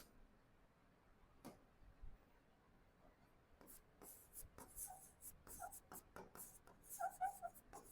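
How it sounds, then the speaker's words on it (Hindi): Marker writing on a board during a physics lecture on electric charge and friction, quiet scattered scratches and ticking strokes that grow busier toward the end, faint and without talk. "तो मैं एक चीज और लिखता हूं"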